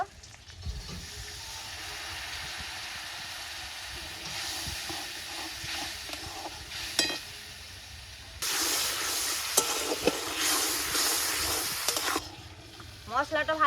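A lentil dish cooking in fish oil in a pan: soft hissing and scattered utensil clicks at first, then a loud, bright sizzle for several seconds, with a voice speaking briefly over it.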